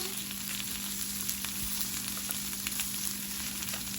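Pork sizzles continuously on a hot tabletop grill, a close, steady crackle and hiss with a faint background hum.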